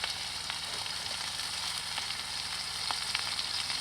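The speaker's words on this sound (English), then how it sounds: "Gonna get it on the hot pan and sear both sides" Food searing on a hot cast iron pan at an off-grid wilderness cabin, giving a steady, dense sizzle throughout with a few faint pops.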